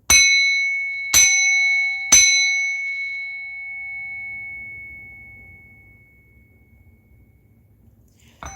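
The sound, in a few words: bell being struck to cleanse negative energy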